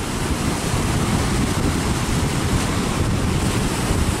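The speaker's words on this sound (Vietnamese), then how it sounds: "ra ngoài kia bắt đầu sóng mới dữ." Rough seas break around a fishing boat heading out in a storm, with a loud, unbroken roar of surf and wind buffeting the microphone.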